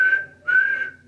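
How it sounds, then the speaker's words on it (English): Two short whistle blasts from a steam engine on a narrow-gauge railway, the first brief and the second longer, clear and close with no other sound. "We whistle before every station."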